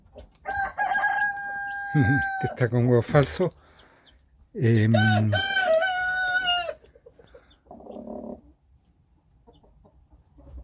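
A hen and rooster at a nest of hatching eggs: long loud crowing calls and clucks in separate bursts, with a person speaking briefly between them.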